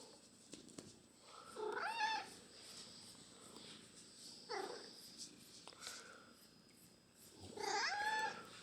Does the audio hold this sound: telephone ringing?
no